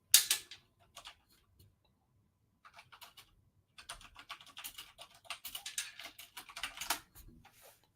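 Rapid typing on a computer keyboard, quick bursts of clicking keystrokes with short pauses, close and fairly quiet, with no talking.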